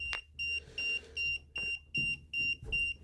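A REM pod ghost-hunting device held near a phone gives a regular series of about eight short, loud electronic beeps, with soft thumps and handling noise between them.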